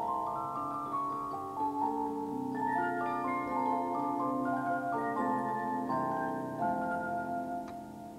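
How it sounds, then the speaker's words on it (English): A Victorian-era Swiss cylinder music box, about 120 years old, plays a steady, sustained tinkling melody of overlapping plucked metal tones, close and moderately soft, with no voices. "This beautiful Victorian music box made in Switzerland"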